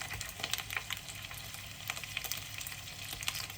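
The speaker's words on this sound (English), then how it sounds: "sear the duck and render off the fat" Duck skin searing in a hot pan as its fat renders out, a steady soft sizzle with scattered crackles and pops, fairly quiet and close with no talking.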